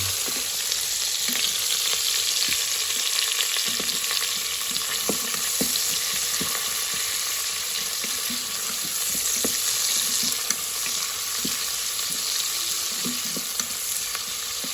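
Aloo palak pulao is stirred inside an electric pressure cooker, a constant frying sizzle with scattered soft scrapes and taps of the spoon, steady and fairly loud without speech.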